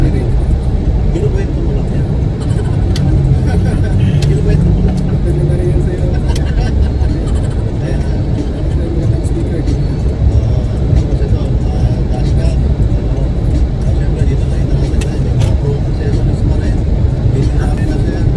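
Jeepney traffic passing along a road in Malolos, Bulacan, heard as a steady, loud wash of engine and road noise with continuous talk over it.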